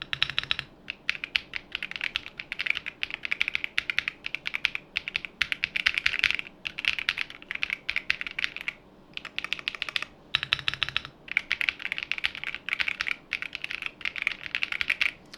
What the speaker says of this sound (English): we're gonna type some stuff so you guys can hear how the keyboard sounds like.